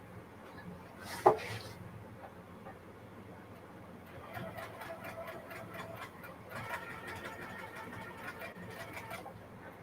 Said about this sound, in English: It's just skipping stitches.